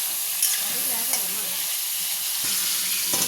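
Bitter gourd pieces sizzle and fry in a pan while being stirred around, a steady bright hiss with light scraping movements, close and continuous.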